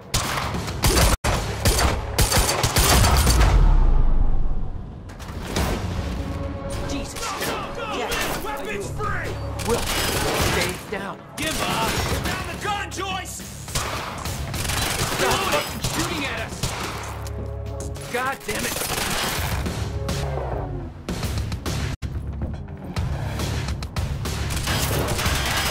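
Gunfire erupts in a Quantum Break firefight, dense bursts of shots and impacts crackling continuously over a loud action score, with voices shouting intermittently beneath the chaos.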